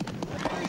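A horse whinnies and its hooves clip-clop in a short burst, heard close and mixed with voices talking over the commotion.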